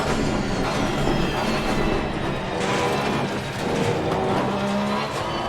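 Race car in Assetto Corsa Competizione at Zolder held at full throttle, its engine a loud, steady roar with rising and falling pitch as it powers through corners, with some tyre noise underneath and no talking.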